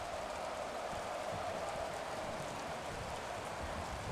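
Rain falls on Lumen Field in Seattle within an NFL video game, a soft, steady, even hiss of rainfall carrying on without a break, faint and distant, with no voices.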